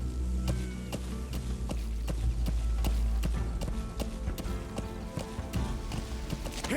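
Horse galloping in Metal Gear Solid 5 while riding across an open landscape: rapid, steady clip-clop hoofbeats loud and close throughout, over a low rumbling game soundscape.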